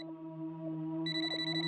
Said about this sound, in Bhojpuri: भाई के फोन।